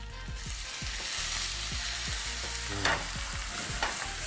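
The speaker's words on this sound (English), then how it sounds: "Pan's nice and hot, get your butter in." Butter hitting a hot pan with apples for a caramel beside pork chops, a close, bright, steady sizzle with small pops and a couple of clinks, no voices.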